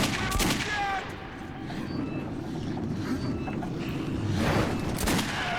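Gunfire rattles in the Metro 2033 video game, a dense, near burst of shots over a steady mechanical rumble. A second volley follows later, with no voices.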